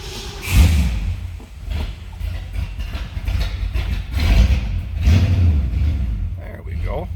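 A 1963 Ford Falcon Futura, not run in a while, fires up and keeps running, a steady low engine drone with rough surges, close by, heard alone.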